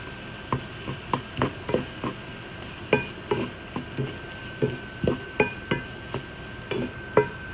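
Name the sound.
tamarind being fried and stirred in a pan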